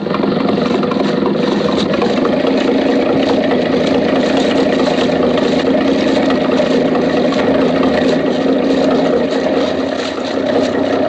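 A loud, steady engine drone runs throughout without a break, close and constant, like a motorboat running.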